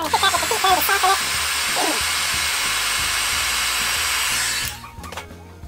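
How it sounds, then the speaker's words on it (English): A heat gun blows steadily on a craft stamp to soften it, giving a loud continuous airflow hiss that cuts off near the end, with brief talk at the start. "I'm just going to hit that with the heat gun to soften it."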